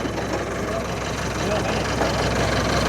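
A running tractor engine holds a steady, moderately loud idle with a slight knocking texture, while voices talk over it.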